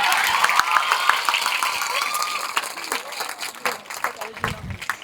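Applause from an audience at a school event in Botad, a broad wash of clapping that is loud at first and thins toward the end, with voices and crowd noise mixed in.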